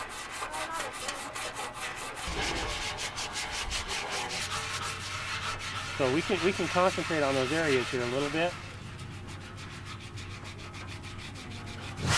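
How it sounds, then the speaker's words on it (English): Sandpaper rubbing back and forth over a wooden frame being prepped for primer, a steady scratchy texture throughout, with a person talking briefly partway through. "we're sanding the frame"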